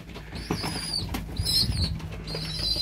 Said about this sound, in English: Yeah, pigeons landing on me everywhere.